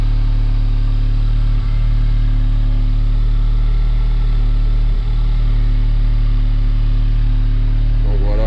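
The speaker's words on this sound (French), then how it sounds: "Là on a le démarrage à froid, hein, on est en cold start, c'est pour ça que ça tourne haut" An Audi S3 8V, still stock, idles high just after a cold start, producing a loud, even, close engine hum with a strong low drone and no speech.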